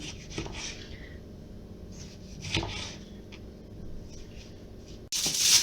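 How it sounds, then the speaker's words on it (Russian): Tomatoes sliced thin with a knife on a board while preparing stuffed pork, soft repeated cutting scrapes and taps at an irregular pace, close, with a louder rustling burst at the end. "Помидоры нам нужно нарезать на такие тоненькие ломтики"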